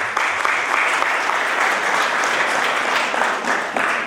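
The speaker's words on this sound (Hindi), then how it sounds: "जो से ताली बजाएंगे।" A wedding congregation applauds steadily, many hands clapping together in a dense, continuous burst that holds for several seconds.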